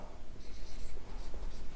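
Pen or chalk writing a heading on a board or page during a chemistry lesson, a steady close scratching stroke sound with light background noise and no speech over it.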